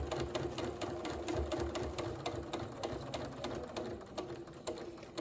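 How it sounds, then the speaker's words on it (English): Sewing machine stitching a few forward and back stitches, then running along a basting line while finishing a diamond quilt block; a steady, close, rapid mechanical whir with even stitch rhythm and no talk. "I will do a stitch or 2 forward, a stitch or 3 backwards, and then just go ahead and stitch right on my basting line."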